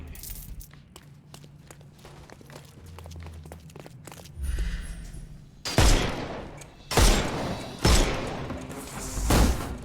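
Several loud, heavy gunshot bursts crack out in a video game firefight as armor is shot off enemies, arriving in separate blasts after quieter footsteps and thuds.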